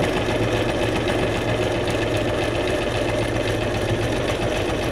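A sewing machine stitches through junk journal paper cards, running continuously with a fast, even mechanical chatter and hum, close and loud, with no speech.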